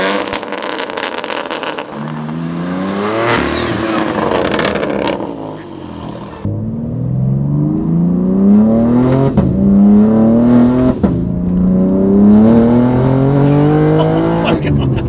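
BMW G80 M3 with an E40 tune accelerating hard, a loud close engine roar climbing through the gears with sharp shift breaks and rising pitch sweeps, heard from inside the car with people talking.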